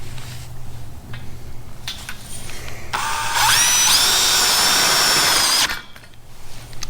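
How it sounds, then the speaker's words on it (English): A power drill drives a small self-tapping Tek screw into a greenhouse frame, a sharp rising whine lasting about three seconds, heard close and loud between quieter pauses. "I'm gonna put a Tek screw right here"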